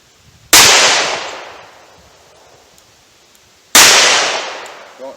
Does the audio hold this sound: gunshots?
yes